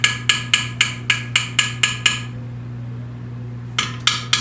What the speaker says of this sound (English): I'm going to tap it on the side to get off any excess